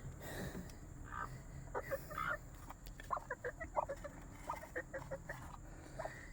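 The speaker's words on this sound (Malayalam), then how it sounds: "ഈ എലിവിഷം തിന്ന കോഴിയുടെ ഒരു ദയനീയ കാഴ്ചയാണ് നിങ്ങൾ കണ്ടുകൊണ്ടിരിക്കുന്നത്" A sick chicken that has eaten rat poison gives weak, scattered clucks and wheezy little calls, quiet and close, spaced irregularly over several seconds with no talk.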